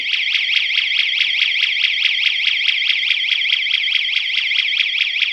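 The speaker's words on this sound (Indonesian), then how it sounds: "bisa terlihat tadi alarmnya berbunyi, lampunya langsung berkedip, memberikan peringatan awal kepada kita bahwasanya terjadinya, ya kurang lebih terjadinya banjir" An Asagi water detector flood alarm shrills alone in a loud, rapid warbling pattern of repeated electronic chirps, steady and close throughout.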